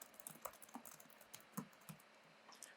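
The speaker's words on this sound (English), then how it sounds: "And I can type some details about what we're going to talk about." Quiet tapping of a computer keyboard, a loose, irregular run of soft key clicks heard up close at low volume with nothing else around.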